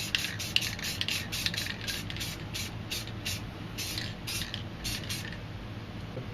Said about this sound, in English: I'm just going to spray this all black